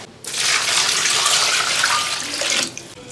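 Running tap water gushes steadily as pig trotters are washed beneath it, a close, loud splashing stream for a few seconds before it cuts off.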